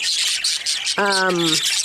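A pair of adult pet birds call from a divided flight cage, giving one clear, steady, held note over a busy bed of softer chirping.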